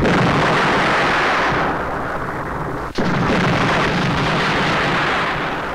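A bomb explosion in a 1990s Hindi action film, a loud roaring blast of broadband noise that sustains and rumbles, briefly dropping out near the middle before the roar resumes.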